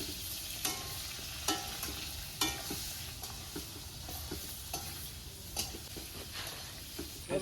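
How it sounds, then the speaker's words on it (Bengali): Potatoes frying in hot oil with turmeric, a steady close sizzle with occasional stirring scrapes of a utensil against the pan, no voices. "এবার আলুটা আমাদের ভাজা হয়ে গেল"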